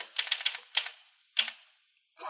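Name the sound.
typewriter typing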